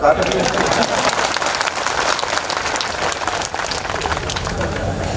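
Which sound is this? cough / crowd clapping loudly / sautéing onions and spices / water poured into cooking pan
crowd clapping loudly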